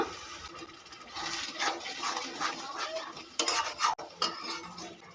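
A spatula stirs spice paste made with ginger and garlic and thinned with a little water in a pan. The scraping and swishing are soft and close, with a few sharper clinks near the end.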